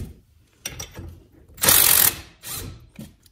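Ratchet wrench loosening a brake caliper bolt on the front passenger side of a 2008 Toyota Prius: several short bursts of ratcheting clicks, with one louder, longer run in the middle, close and alone.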